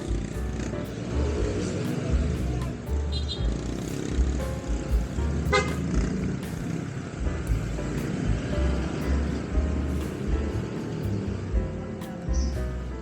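Heavy road traffic builds up near an intersection with a stoplight, a steady motor rumble carrying several short car horn toots scattered throughout, heard close and fairly loud.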